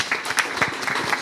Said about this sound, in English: can we get a round of applause if you like his answer best?